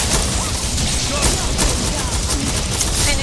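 Rapid gunfire from the video game Killing Floor, a dense continuous volley of shots with sharp cracks throughout, loud and close, with excited voices calling out over it.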